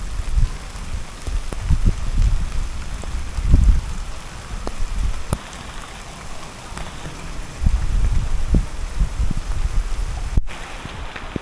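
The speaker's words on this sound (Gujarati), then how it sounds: "જો તમે એટલો વરસાદ પડે છે" Heavy unseasonal rain falls at night in the Gir region as a loud, continuous hiss, with gusty low rumbles of wind buffeting the microphone and no voices.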